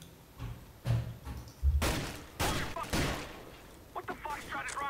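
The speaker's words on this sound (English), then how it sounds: "Why are you shooting me?" Gunfire in Counter-Strike: Global Offensive, several sharp shots and short bursts spread across the moment, mixed with thuds and other game noise, with voices talking over parts of it.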